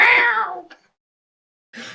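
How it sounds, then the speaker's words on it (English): A house cat gives one loud, close meow, followed by a short pause and the start of another, with no talk over it. "I hear the cat in the background."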